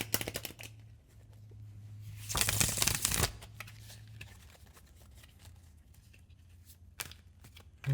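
Tarot cards being shuffled close up, a soft riffling patter with one louder, denser burst midway, then quieter card handling and a sharp tap near the end.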